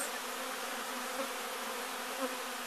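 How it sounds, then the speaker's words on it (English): A soft, continuous buzz of many honeybees swarming around an open hive, steady and faint, with no voices. "this is just to give you an idea of the clouds of bees"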